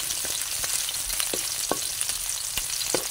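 Onion and garlic frying in a pan for vegetable fern adobo, a continuous loud sizzle broken by a few sharp spatula taps and scrapes, close up with no talking.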